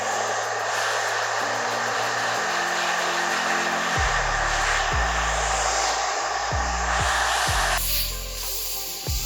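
A hair dryer blows steadily and loudly throughout while hair is blow-dried section by section with the nozzle. The motor pitch shifts several times as the dryer is angled or its setting changes.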